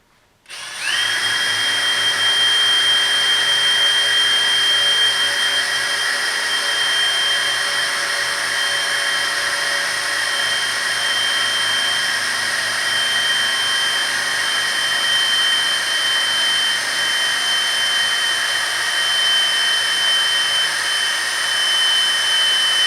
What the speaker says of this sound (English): I'm just going to go on the back side, drill them out, bolt them up.